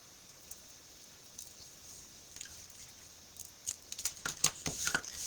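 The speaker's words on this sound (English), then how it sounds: "And I'm going to cut off about 1 foot." Gold trim ribbon from a gold and silver trim pack being snipped with scissors: a short run of close, quiet crisp cuts and rustles near the end, after mostly near-silence.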